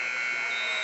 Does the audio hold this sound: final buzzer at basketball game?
yes